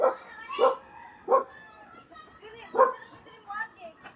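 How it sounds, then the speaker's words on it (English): Several dogs bark in short, spaced bursts, about four to five yelps across a few seconds, fairly close, on a rural road during a bicycle ride, with people talking in the background. "You're gonna see more dogs here"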